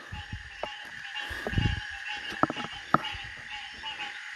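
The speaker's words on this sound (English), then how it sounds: "Oh, there's a frog." A frog croaks at night near water at a fishing spot, giving a few short, sharp calls spread out over a dim background hum, fairly close, with no talking.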